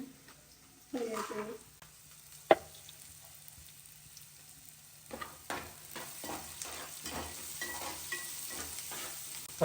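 Peanuts and chana dal fry in a pan for dry upma, a quiet crackling sizzle with a few sharp stirring clacks and scrapes, growing busier toward the end.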